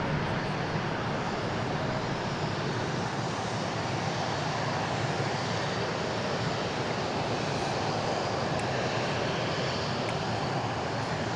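A Boeing 777-200 jet departing DFW airport for Rome makes a steady, broadband engine roar that holds at an even level throughout, with no voices.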